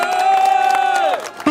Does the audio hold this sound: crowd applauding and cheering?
yes